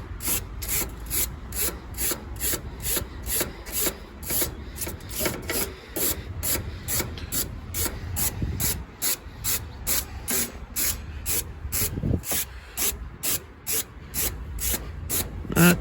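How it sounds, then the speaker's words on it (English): A bristle brush scrubs dirt from the condenser coil of a Rheem air conditioner in steady, fast back-and-forth strokes, a loud rhythmic rasping that runs on without pause or voices. "we're gonna brush it out with a bristle brush"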